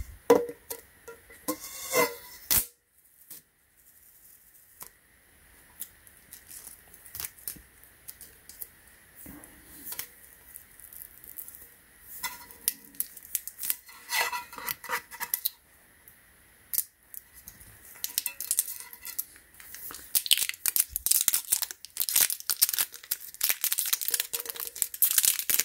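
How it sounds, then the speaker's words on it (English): Sticker peeled off coffee packaging in close, quiet detail: crisp crinkles, scratchy tearing bursts and small clicks come in irregular clusters with soft pauses, then grow busier and denser toward the end. "I'm taking out the sticker."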